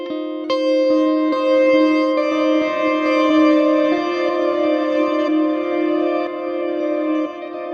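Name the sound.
electric guitar through Helix with reverse delay effect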